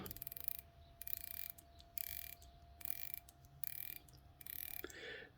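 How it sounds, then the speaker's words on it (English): A 120-click unidirectional dive bezel on a Spinnaker Hull Dumas watch turned in short bursts, about six runs of rapid fine ratcheting clicks separated by pauses, very close and quiet, with no talking. "we have 120 click unidirectional dive time bezel"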